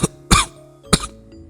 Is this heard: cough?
yes